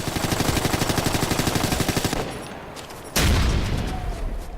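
Rapid automatic rifle fire in Tom Clancy's Ghost Recon: Future Soldier, a loud sustained burst of evenly spaced shots that stops, then a heavy single blast follows after a short pause.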